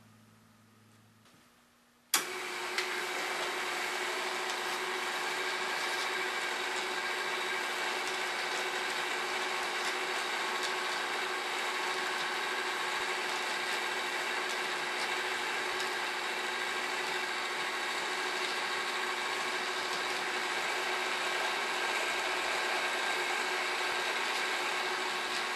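A U45 label dispenser with its standard speed motor starts up abruptly and then runs with a steady, even motor hum and whir that holds without change for more than twenty seconds, close by and with no talking.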